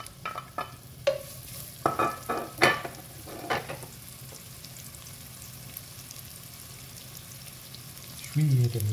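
Leek tipped into a pot for a fish soup, landing with a few short stirring clatters and soft sizzles, then a low rumbling bubble near the end.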